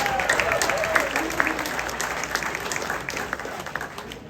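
Audience applause at a community program on Sanibel, a dense wash of clapping at moderate loudness that holds steady and tapers slightly toward the end.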